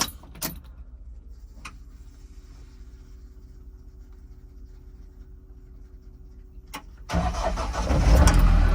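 A 2020 Mahindra Roxor is started after a few clicks and a long quiet pause; the engine cranks and catches into a loud, rough idle that fills the last seconds.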